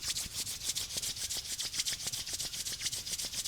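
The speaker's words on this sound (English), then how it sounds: "rubbing your hands together" Hands rub together briskly during a beginner yoga session, a soft rhythmic swishing of palms repeating many times in a quiet room, close and gentle, with no voices.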